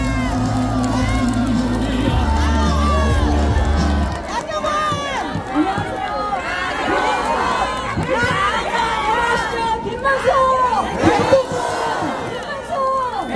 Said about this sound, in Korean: 하경원 공동 선대위원장을 큰 박수로 맞아주시기 바랍니다